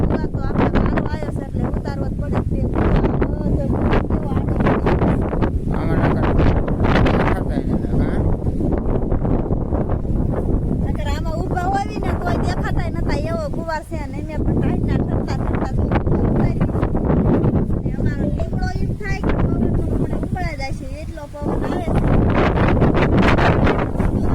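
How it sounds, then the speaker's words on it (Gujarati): Strong wind roars and buffets the microphone continuously, loud and rumbling, with faint voices occasionally under the gusts. "પવન એટલો છે આજે પવન એટલો છે"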